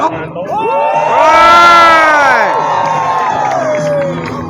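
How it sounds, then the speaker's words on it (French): At a monster truck show in Granby, a big crowd rehearses wild cheering on cue, loud, close shrieks, whoops and children's shouts swelling together then tapering over several seconds. "On fait une pratique de foule en délire."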